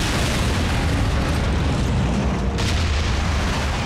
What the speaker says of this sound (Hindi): वो बॉम्ब हम दोनों के लिए लगाया गया था